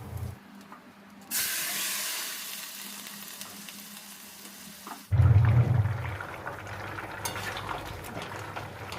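Thin vegetable curry broth hits a hot pan with a sudden loud sizzle that settles into a steady bubbling hiss, following an earlier stretch of frying crackle.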